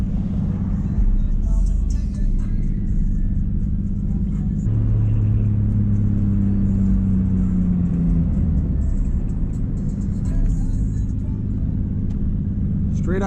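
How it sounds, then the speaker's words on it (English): A 2JZ engine swapped into a Mazda RX8 on its first drive, a steady mean low rumble heard from inside the car with a rev change midway, with people talking throughout. "the sound of the 2Js is just so mean"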